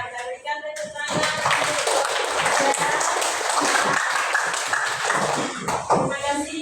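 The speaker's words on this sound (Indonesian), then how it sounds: "Nah, kita berikan tepuk tangan" Classmates in a teacher training session clap for a group that has just presented its discussion results, a close, lively burst of hand claps following a short spoken greeting and fading as talking resumes.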